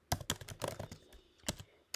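Someone types code on a computer keyboard. The clicks are quick, irregular and close, fall in a burst with a brief pause and then a few more keystrokes, and are heard without speech.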